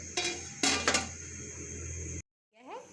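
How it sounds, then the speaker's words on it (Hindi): A metal lid set onto a cooking pot of water boiling for chicken pulao, a few close clanks and rattles in quick succession, then settling, with no speech. "अब हम ढक्कन लगा के रख देंगे बॉयल होने तक।"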